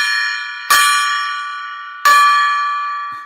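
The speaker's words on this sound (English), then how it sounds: "Let's ring the gong 3 times." A gong is struck twice, each stroke a bright metallic clang that rings on and slowly decays, with about 1.3 seconds between hits and no talking.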